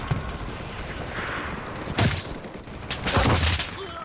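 Gunfire in the online shooter game Enlisted rattles in bursts over a constant battle rumble, with sharp volleys around the middle and a longer, louder fusillade near the end.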